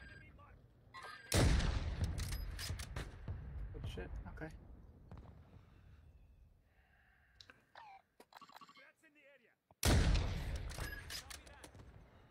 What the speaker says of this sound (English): Someone just keeps trying to mortar that shit